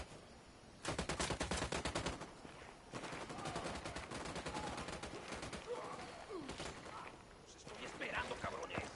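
Rapid bursts of automatic gunfire in the Ghost Recon video game, loud and dense, firing in long sustained volleys with brief pauses between them, with talk heard over parts of the shooting.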